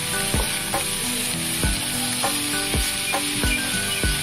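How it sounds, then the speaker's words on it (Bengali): Cooked rice for egg fried rice hits a hot pan and is stirred, bringing a continuous loud sizzle and a series of sharp, regularly spaced scrapes and knocks of the spatula against the pan, close up. "এখন ঢেলে দিচ্ছি আমি এর মধ্যে রাইসটা।"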